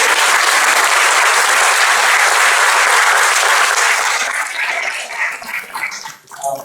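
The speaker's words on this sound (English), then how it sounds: "You can cheer her with the claps." An audience at a caregiving lecture claps loudly and steadily for a speaker being introduced, then the applause thins out and tapers off in scattered claps toward the end.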